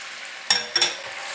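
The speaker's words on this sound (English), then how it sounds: "We're just going to stir this around with the other herbs just a little bit so it'll start smoking really good like that" Herbs being stirred in a hot non-stick pan, with a steady faint sizzle broken by two or three quick scraping stirs up close.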